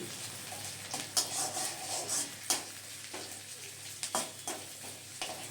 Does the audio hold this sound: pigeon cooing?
no